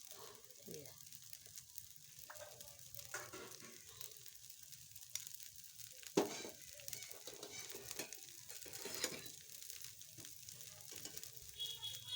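Dosa batter cooks in oil on a hot pan, giving a steady low sizzle and frying crackle throughout, with a few louder bursts and scraping touches around the middle.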